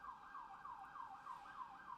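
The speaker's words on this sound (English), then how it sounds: "And here comes another siren." An emergency vehicle siren wails in a repeating up-and-down sweep, distant and fairly faint, continuing steadily without any talk.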